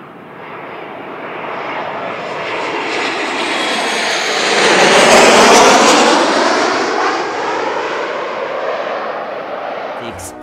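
Airplane engine in flight, a loud, sustained roar that swells and fades like a pass overhead, with no talk.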